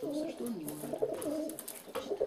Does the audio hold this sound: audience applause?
no